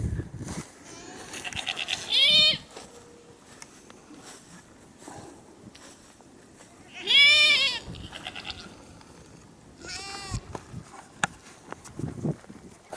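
Baby goats on a farm with steers bleat three times, each cry loud and wavering and spaced several seconds apart, with soft footsteps and shuffling in between.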